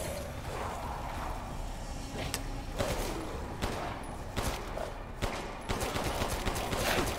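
Rapid bursts of gunfire from a weapon in Resident Evil Village, a fast series of sharp shots repeating over a steady noisy game background, fairly close with no talk.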